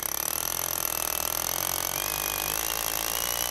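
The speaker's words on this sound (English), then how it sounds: "after drilling a hole for access to the newly installed electrical wires" A power drill bores a hole for access to newly installed electrical wires, giving a steady, loud whine that runs unbroken throughout with no voices.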